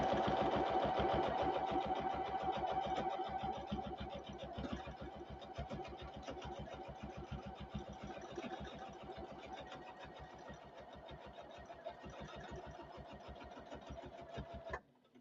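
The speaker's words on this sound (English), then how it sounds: "I can come back in here and do some free motion quilting." A sewing machine doing free motion quilting runs in a fast, steady needle rhythm for about fifteen seconds, close and clear, then stops abruptly.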